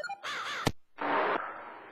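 A crow caws once briefly and then again more loudly in a longer call, with a sharp click between the two calls, close and clear, with no voices.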